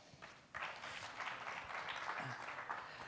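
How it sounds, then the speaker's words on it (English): Applause from a conference audience at a marketing industry event, rising suddenly after a half-second of quiet and continuing as a steady, fairly soft wash of clapping. "Big round of applause."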